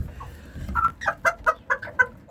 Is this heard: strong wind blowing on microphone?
no